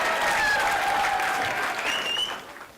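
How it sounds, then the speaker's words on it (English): Audience clapping at a Diwali celebration, a steady dense patter that holds loud for about two seconds then tapers off as it thins out; a faint whistle-like tone rides over it. "You need to clap harder."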